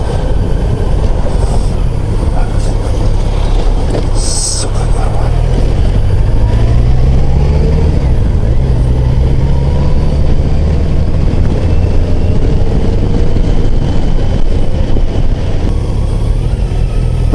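Moped engine riding through city streets, a loud continuous droning motor with rising and falling pitch sweeps as it accelerates, with wind and traffic noise throughout.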